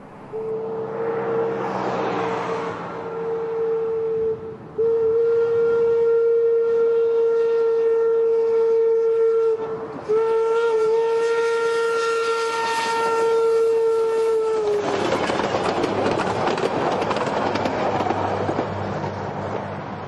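Steam locomotive Eureka & Palisade No. 4 on the Durango & Silverton line in the Rockies near Hermosa blows a long, steady whistle with breaks, then chuffs and rumbles loudly past.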